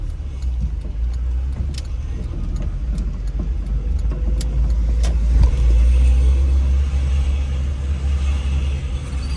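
A car drives through the streets of South Philadelphia and makes a right turn, its engine a steady low rumble with road noise that swells slightly midway, close and continuous with no talking.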